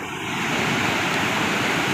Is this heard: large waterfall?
yes